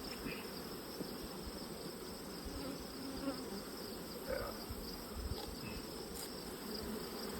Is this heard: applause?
no